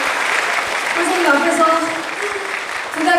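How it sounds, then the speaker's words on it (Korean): Audience applause for a teacher during a special invited trot concert at the Mokpo municipal traditional music center, a dense sustained wash of clapping with cheering voices rising over it throughout. "박금 희 선생님 오셨는데 어, 선생님께 박수 한 번 더 주시면 감사하겠습니다"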